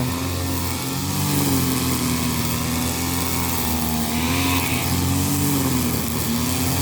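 A number three grass cutter engine runs steadily and loudly at close range, a continuous high buzzing drone with slight wavering in pitch throughout, no voices over it.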